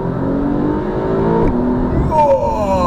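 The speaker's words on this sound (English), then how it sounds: "I'm gonna press this button now and you'll hear the car." A Porsche engine revs up hard under turbo boost, its pitch climbing, dropping sharply at a gear change, then climbing again, loud and close.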